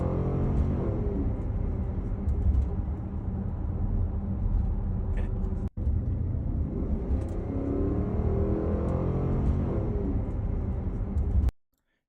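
A Porsche Cayenne GTS V8 exhaust roars steadily and loud through throaty sustained revving, broken by a short cut in the middle before winding up again, ending abruptly.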